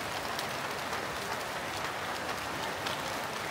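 Steady rain falls without a break, giving a soft, even hiss that fills the whole stretch with no voices over it.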